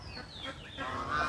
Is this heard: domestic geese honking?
yes